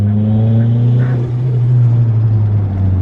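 Interior of a Mitsubishi Lancer CE on the move, a loud steady low exhaust drone with strong rumbling tones, holding even throughout.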